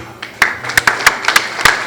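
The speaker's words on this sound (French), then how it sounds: "Sous vos applaudissements, s'il vous plaît" Sparse, uneven clapping from a few hands at an award ceremony for the building sector, a handful of distinct claps spread over a couple of seconds.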